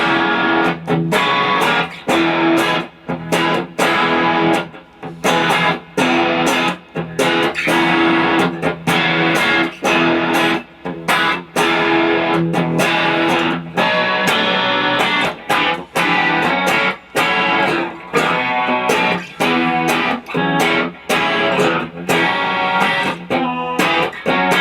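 Overdriven electric guitar, a custom Telecaster through a Tube Screamer channel, plays chunky, distorted chords and riffs, loud and continuous with brief choppy stops between phrases.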